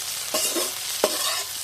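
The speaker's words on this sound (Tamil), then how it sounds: "இனிமேல் நம்ம தக்காளியை போட்டு நல்லா பரட்டிக்குவோம்" Tomatoes and onions fry in a pan as a spoon stirs them, two sharp scraping strokes over a steady close sizzle.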